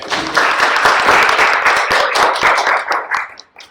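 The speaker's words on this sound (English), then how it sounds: "A round of applause for Chris Alexander." Close, loud applause from an annual meeting audience welcoming a speaker, crisp individual claps in a busy burst that tapers off into a few scattered claps before fading out.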